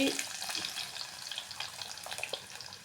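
Garlic and ginger dropped into hot oil with curry leaves sizzle faintly in a pan, a soft crackling hiss with scattered pops and small stirring sounds, fairly quiet and close.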